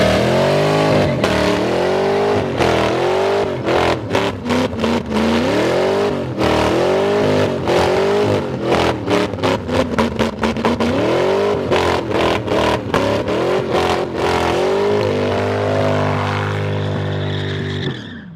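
SN95 Ford Mustang engine running rough, revving up and down in repeated rising and falling pulls, loud and close, then settling to a lower idle before cutting out near the end.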